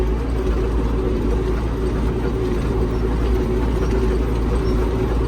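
An MTZ 892 tractor pulls a PD-2.5 disc harrow through rain-soaked soil being prepared for wheat, giving a steady, loud, unbroken low engine drone with no voices.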